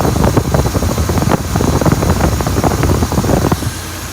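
A 1966 Oldsmobile Ninety-Eight engine idles after a carburetor idle-mixture adjustment, a loud, close, steady rumble with an even low pulsing and no speech.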